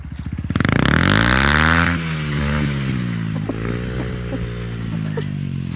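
Dirt bike engine revving hard as the rider gives it gas, a loud rising whine that holds high, then settles into a rougher, lower running drone with some clatter, close by and without talking.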